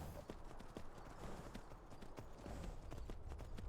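Hooves of a horse, likely a mare, clip-clop in Skyrim, a quiet, rapid rhythm of hoofbeats under a low background rumble, steady throughout.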